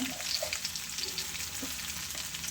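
Tomatoes softly frying in a pan for avarekalu (field bean) sambar, a steady low sizzle running throughout with faint scraping of stirring, close and alone without any voices.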